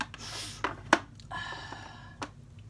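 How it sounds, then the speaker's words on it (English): A few short, breathy sniffles through the nose from someone with a cold, close and fairly quiet, spaced irregularly with faint background noise. "Forgive me if I sniffle today."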